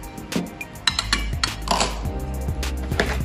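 Cake ingredients, including chopped kenari nuts, being mixed together in a bowl, with a string of clinks and scrapes from a utensil against the bowl, close and irregular.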